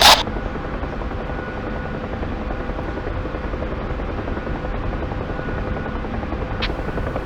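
Simulated UH-1 Huey helicopter in DCS World flying, a steady loud rotor and turbine drone held throughout with a brief sharp click at the start and another near the end, no talk.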